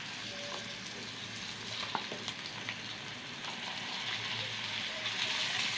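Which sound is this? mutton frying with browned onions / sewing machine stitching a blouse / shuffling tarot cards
mutton frying with browned onions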